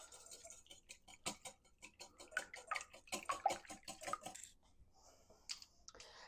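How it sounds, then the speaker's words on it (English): Eggs are whisked in a bowl in a quick run of close, crisp metallic clicks and taps that slows into a few scattered strokes toward the end. "3 eggs are in. We're going to whisk those until"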